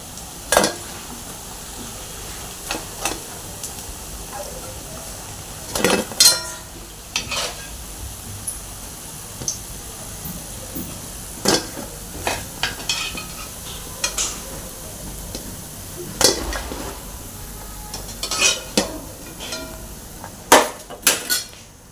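Onion bhaji frying in hot oil, a steady sizzle underneath frequent sharp clinks and scrapes of a utensil against the pan, loud and close with no talking.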